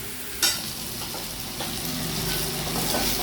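Okra (lady's finger) sautéing in a pan, a continuous steady sizzle with soft stirring scrapes and a few brief clinks, close and moderately loud with no talking.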